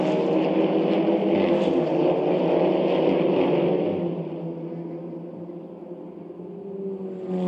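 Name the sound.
SEAT Leon race cars racing at Nürburgring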